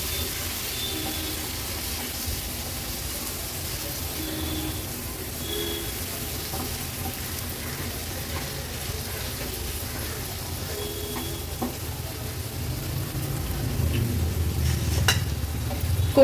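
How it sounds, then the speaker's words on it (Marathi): Prawns being stirred into spicy masala in a pan over a medium flame, a soft steady sizzle with scraping stirs now and then, rising to a louder frying burst near the end. "आता ह्या कोलंब्या व्यवस्थित आपल्याला ह्या मसाल्यामध्ये मिक्स करून घ्यायचे।"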